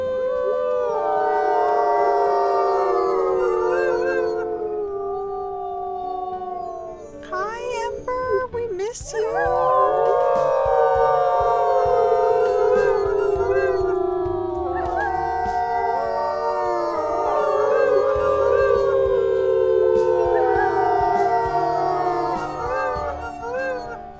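Wolves of a pack settling down to prepare for pups howl together, several long wavering voices overlapping in a sustained chorus that rises, breaks briefly and resumes, loud and close.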